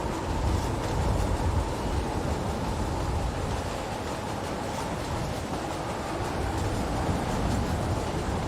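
Steady rumbling roar of a moving train in Metal Gear Rising: Revengeance, a dense continuous rolling rattle with low mechanical rumble and hiss, loud and unbroken throughout with no voices.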